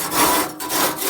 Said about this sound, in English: I'm going to be scraping and sanding this 55-gallon drum cover